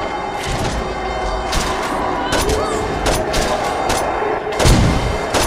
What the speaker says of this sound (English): Damn, I'm shooting the prisoners.